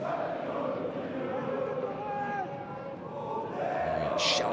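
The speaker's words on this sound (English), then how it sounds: "Fantastic atmosphere here in the Niederrhein Stadium" Distant, steady roar of a football crowd at the Niederrhein Stadium during a Schalke 04 versus Borussia Dortmund U19 Bundesliga semi-final, a continuous wash of voices and chanting under a commentator's talk.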